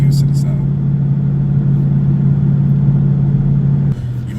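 A Mustang GT with a FlowMaster Outlaw catback and Scavenger X-pipe idles with a steady, deep, close rumble that drops slightly near the end, while someone talks over it.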